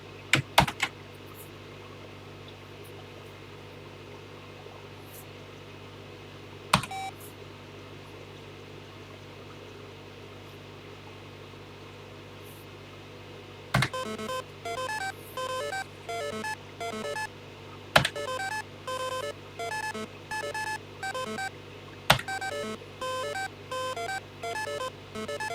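Electronic beeps and tones from the TI-99/4A home computer playing the Early Learning Fun cartridge: a few isolated clicks and blips at first, then a steady, rhythmic run of short chirping electronic notes.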